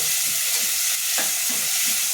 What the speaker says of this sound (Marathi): कांदा, हे चांगलं परतून घेते